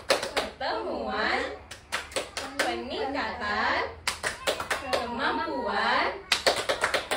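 Groups of women at a family parenting session perform a rhythmic patterned hand-clap, sharp bursts of clapping in repeated phrases, alternating with chanted group speech.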